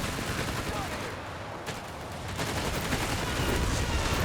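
Whiz-bang rocket barrage in the World War II strategy game Company of Heroes 3, a continuous dense rumble of rocket impacts and crackling explosions that swells louder toward the end, with a voice talking over it.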